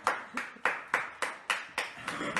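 A single pair of hands clapping at a close distance, about eight sharp claps spaced evenly at a steady rhythm, with nothing else heard around them.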